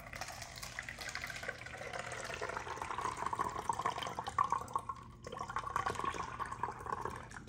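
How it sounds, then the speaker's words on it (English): Water pours steadily into an empty plastic bottle, a continuous gurgling splash with a brief pause before the flow resumes, close up and fairly quiet. "I'm gonna pour and fill this empty water bottle with about a third of water."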